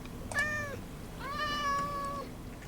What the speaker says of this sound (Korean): 고양이네요.